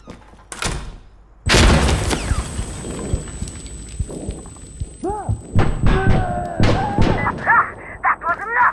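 Grenade blast in the tactical shooter Insurgency Sandstorm during a hardcore checkpoint co-op match: a loud sudden boom cuts in early, followed by rumbling debris, scattered thumps and gunfire-like bursts, with faint voices among the game noise.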